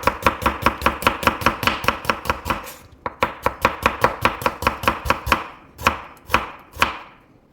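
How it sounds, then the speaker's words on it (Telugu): Onions are chopped with a knife at home, in rapid, evenly spaced chops on a board, a brief pause, then another fast run and a few slower final cuts, close and crisp with no talk. "మా హస్బెండ్ కట్ చేస్తున్నారు ఆనియన్స్ బాగా కట్ చేస్తాడు చూడండి"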